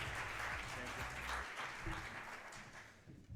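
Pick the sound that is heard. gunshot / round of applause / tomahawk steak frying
round of applause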